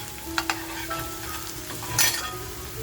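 Onions sizzle in hot oil in a pan, frying toward a reddish brown for a Maharashtrian shimpli kaju masala. A steady close crackle runs under a few light scrapes from stirring, with a brief louder burst of sizzle near the end.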